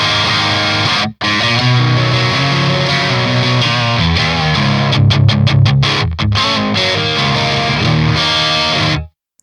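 Electric guitar played at low gain through a Victory Kraken MKII amp, a loud, full, slightly driven chordal tone ringing continuously with a brief break near the start and a choppier strummed passage before stopping.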